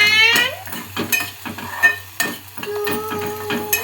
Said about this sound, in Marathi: कांदा मस्त असा ब्राऊन होईपर्यंत भाजून घेऊया.